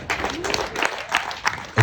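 Wedding guests clapping together in a steady, moderately loud burst of applause with a few louder claps near the end, and a voice briefly audible underneath.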